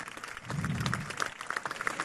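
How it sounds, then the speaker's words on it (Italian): Applause from a gathered crowd honouring Aldo at a Palio Marinaro del Tigullio association event, a short burst of clapping that swells and then carries on as scattered, moderately loud claps. "un applauso veramente grandissimo ad Aldo"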